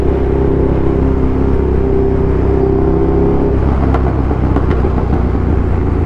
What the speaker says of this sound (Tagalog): Daming trucks.